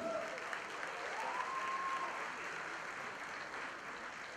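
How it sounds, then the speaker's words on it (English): Audience applause at the first look launch of the film Robot 2.0, a continuous, even wash of clapping from a large crowd, with a faint tone briefly rising in the background. "I think this team requires a huge round of applause from all of you."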